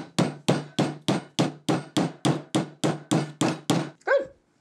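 About a dozen evenly spaced, sharp hammer taps strike the edge of a wooden canvas stretcher frame while a canvas is stretched, each a close, resonant knock, ending with a brief odd squeak.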